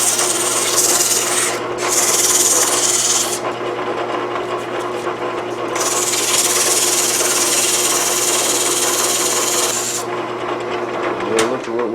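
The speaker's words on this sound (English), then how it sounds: "it's sanding up pretty good" Steady, continuous rasping of coarse-grit sandpaper scrubbing against a metal cannon part, with brief pauses and bursts of brighter scratching throughout.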